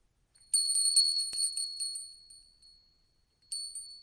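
A small bell rings with a bright, sustained shimmer that slowly fades over about two seconds, then is struck again near the end of the clip, quiet and alone with no talking.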